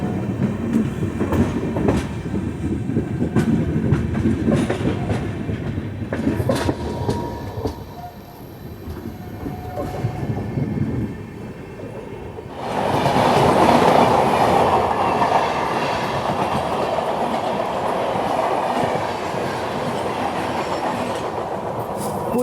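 The Shirdi Mysuru Express runs on the rails, heard as a steady rumble with rhythmic clickety-clack from the wheels that swells into a louder roar partway through, with no talking.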